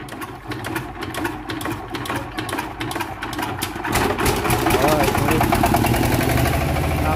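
An odong-odong ride vehicle's engine, rigged to power subwoofers, runs with a rapid, rattling idle that grows louder and heavier partway through, while people talk over it.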